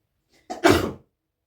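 A single human sneeze, a faint short intake followed by one sharp, close burst that fades within half a second, heard alone against silence.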